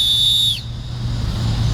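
Referee's whistle at an outdoor soccer game, one short shrill blast close by that cuts off abruptly, followed by quiet outdoor ambience.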